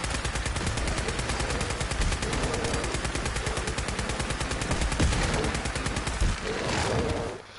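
Sustained, rapid gunfire from a powerful weapon in Fallout 4, loud and continuous with dense repeating shots throughout, a few heavier bursts near the end.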